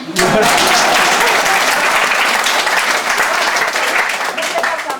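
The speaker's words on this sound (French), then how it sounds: "il faut applaudir parce que c'est..." Applause from a theatre audience at a comedy play swells quickly and stays loud and dense, a continuous wash of many hands clapping that eases only slightly toward the end.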